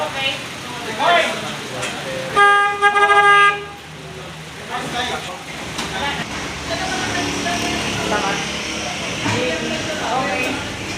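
A car horn honks in a long, loud, steady blast of a second or so during a driving road-test vehicle check, with engine rumble and nearby talk before and after.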